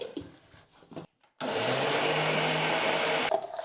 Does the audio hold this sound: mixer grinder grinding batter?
yes